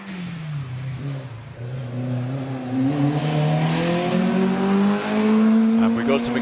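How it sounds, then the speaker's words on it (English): A Peugeot 205 1.9 race car climbs a hill-climb course with its engine revving hard and rising in pitch through the gears, loud and close, while a commentator talks over it. "Robert Wilson hurling the Peugeot up the hill"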